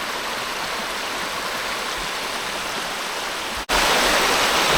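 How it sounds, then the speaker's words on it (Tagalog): Strong river water rushing and churning steadily, loud and close, a continuous broadband roar that briefly dips near the end and then returns slightly louder. "Lakas ng tubig."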